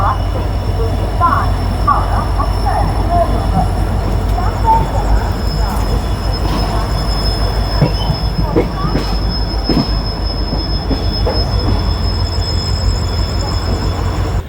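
The Puri special train 02837 stands at platform 1 of an Indian station, with a loud, steady low rumble of rail cars and engine, a few metallic squeals and clanks, and voices talking underneath.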